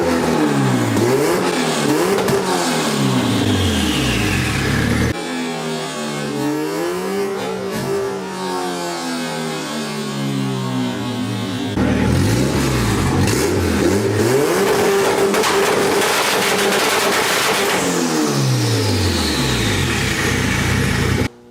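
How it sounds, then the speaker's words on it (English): Car engine rattling on a two-step launch limiter while parked in a garage: sustained loud revving with rapid popping and crackling bursts, a brief drop in pitch midway, then back up to a steady high rev until it cuts off. "hope you guys enjoyed that two-step"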